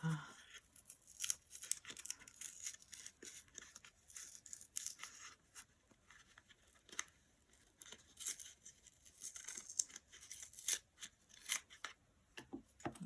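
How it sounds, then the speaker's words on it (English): Craft paper being torn and peeled during a card-making project, a series of short dry rips and rustles close by, with faint talk in the background. "I might just rip a little bit of that paper."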